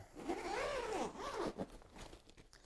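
The zipper on a carrying bag for an LED video lighting kit is pulled open in several quick, close ripping strokes, quiet and with no talking.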